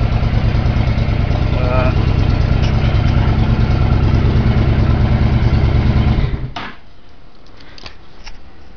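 A motorcycle engine idles loudly and close with an even, throbbing rumble, then cuts off abruptly near the end, leaving quieter background sounds and a few faint clicks.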